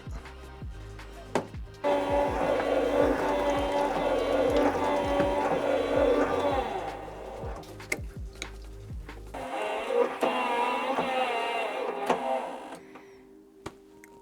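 A loud, steady mechanical whir of a Graco Mark V airless paint sprayer motor running continuously, with rhythmic pulsing underneath, briefly dropping before surging again.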